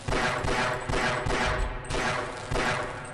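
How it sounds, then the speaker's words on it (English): Quick pistol shots at bull squids in Half-Life, about seven sharp cracks fired in a fairly even rapid rhythm, loud and close with no talking. "the pistol works really well on bull squids"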